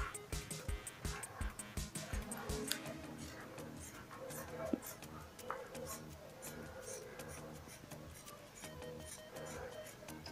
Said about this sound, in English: so now I'm going to cut out the neck